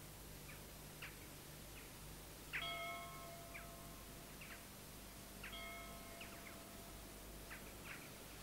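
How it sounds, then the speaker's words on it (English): Old estate bell chiming over a forge in the Irish countryside, two bright ringing strikes a few seconds apart, fairly distant over a soft outdoor hiss with faint bird calls. "the bell that once summoned them from the fields can still be chimed in his place over the old forge"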